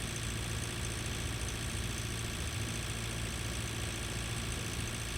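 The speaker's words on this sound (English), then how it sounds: "The joys of having tractor with more horsepower." A high-horsepower tractor engine in the farming video game Pure Farming 2018 drones at a constant, dense roar while driving at speed, loud and unbroken with no voices.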